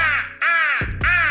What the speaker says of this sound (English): Got my crow call.